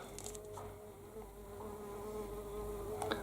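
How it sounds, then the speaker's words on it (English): A wasp buzzes indoors in a steady, droning hum that stays close and fairly constant throughout, with no talking. "Oh, it's a wasp. Go away, wasp."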